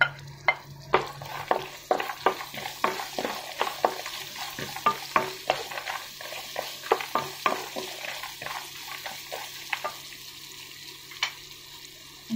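Onion sizzles in a hot pan while a utensil stirs it, giving a string of sharp scraping clicks over a soft, continuous fry with a faint hum beneath.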